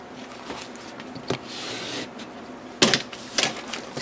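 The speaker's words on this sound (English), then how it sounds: "I'm going to take my ruler and really just burnish that down." A ruler rubbed firmly over fabric to burnish it onto a junk journal cover, giving soft scraping strokes in short bursts with pauses, close and fairly quiet.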